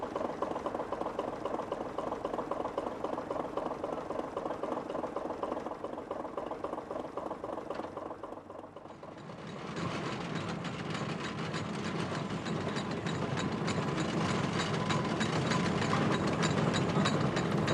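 Steam ploughing engine running at a country ploughing match, a steady rhythmic mechanical chugging that holds throughout, dipping briefly in the middle and then returning slightly louder and fuller.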